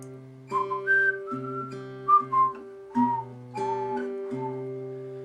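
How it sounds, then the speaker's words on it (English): A melody whistled in clear, sustained notes, rising and dropping in pitch, over a steady low guitar drone, in a cover of a song. "Yep, and then the whistling comes in."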